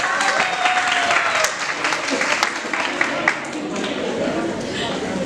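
Audience applause for Sejal at an annual alumni meet, a brisk burst of clapping from a crowded room that holds steady for several seconds, with voices and cheers mixed in.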